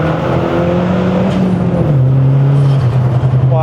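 A modified Mazda 3 MPS pulls hard in third gear on a mountain road run, its engine note climbing steadily and loud from inside the cabin, with a brief shift in pitch partway through.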